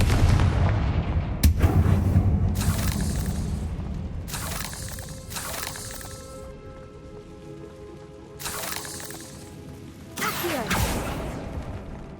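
Fire-spell explosions in the video game Hogwarts Legacy, several loud blasts with crackling bursts and rumbling decays spread across the stretch, separated by quieter ambient gaps.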